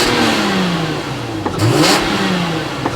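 A one-owner Toyota Chaser JZX100 Tourer S with a turbo engine and 53,000 km is revved once while stationary. It gives a loud, close rising rev that peaks and then falls back toward idle, with no talking over it.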